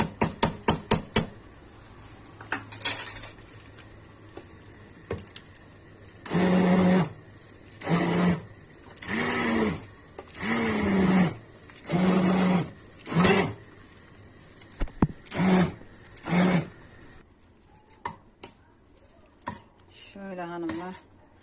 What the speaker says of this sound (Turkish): Çok az bir şekilde de blenderdan çekeceğim.